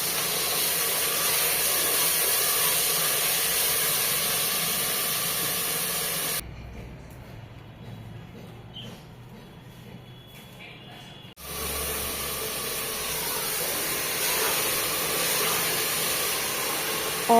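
Minced meat, keema, frying with golden-brown onions in a pan gives a steady, loud broadband hiss that stops for several seconds in the middle, then resumes just as strongly.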